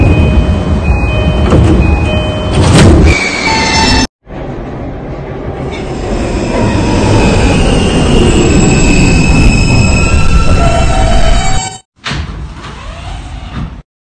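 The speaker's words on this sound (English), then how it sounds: "This is a Union Turnpike bound E train." A New York City subway E train bound for Union Turnpike runs loudly, its wheels rumbling and squealing on the rails. Two brief silent gaps break the sound, and the rumble continues after each one.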